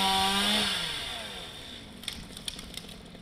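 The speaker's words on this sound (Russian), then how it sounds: "Пока 2 дня назад возле домов не завизжали бензопилы." Petrol chainsaws whining while felling pine trees beside houses, a loud high-pitched engine note that fades and winds down, followed by a few faint knocks.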